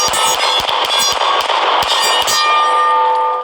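A Glock 19 pistol fires 9mm +P HST rounds in a quick string of about ten sharp, loud shots at close range, each ringing briefly before the last echo fades.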